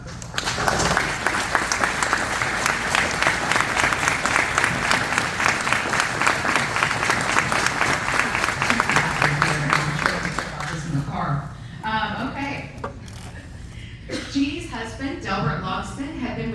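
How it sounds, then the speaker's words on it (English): An audience at a law enforcement recognition event breaks into loud, dense applause that holds steady for about ten seconds, then fades out as a speaker resumes talking. "Red can help me give her a round of applause."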